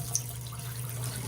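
Water runs steadily from a WorbWay matte black 8-inch widespread two-lever bathroom faucet on a third floor, a brief, even hiss with a low steady hum beneath, close by and without talk.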